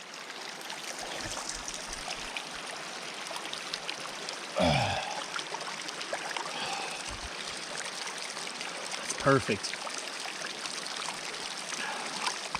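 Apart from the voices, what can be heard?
natural hot spring water flowing into river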